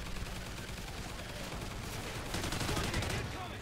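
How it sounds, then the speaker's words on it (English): Rapid automatic gunfire from a sentry gun in Call of Duty Ghosts Extinction, a dense, continuous rattle of shots that swells louder near the end. "Nobody get worried, this is a sentry gun."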